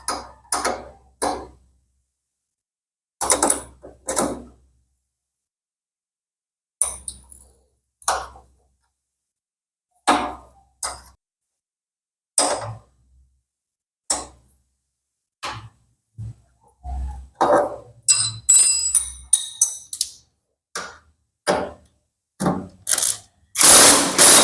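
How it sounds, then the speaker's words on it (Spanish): A ratchet wrench tightens the lower shock absorber bolt on a motorcycle in short bursts of rapid clicking separated by pauses, close and crisp, with no talking. "se pone el tornillo que soporta el amortiguador de la parte baja"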